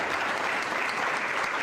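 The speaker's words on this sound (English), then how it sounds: "How about a round of applause for the steel workers?" A short burst of steady applause from a town hall crowd honoring steel workers, a dense and even patter of many hands clapping at moderate volume.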